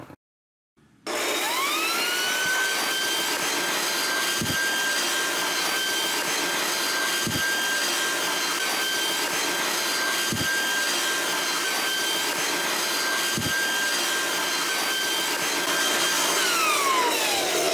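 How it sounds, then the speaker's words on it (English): Compressed air blowing dust out of the open carriage of a Vevor 13-inch wood planer, a loud, steady hiss with a high whine that runs continuously for most of the clip. "We're just going to blow it out."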